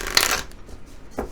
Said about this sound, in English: Shuffle the cards up.